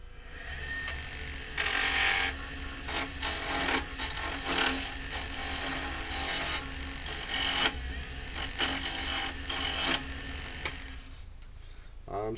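A wood lathe spins a cocobolo pen blank as carbide tools cut it, close up: a steady motor whir overlaid with repeated bursts of rough, scraping cutting noise.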